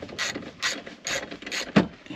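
Ratchet with an extension loosening a bolt on a Yamaha Grizzly 700 EPS SE ATV, giving four or five rhythmic bursts of ratcheting clicks close up and a sharper knock at the end.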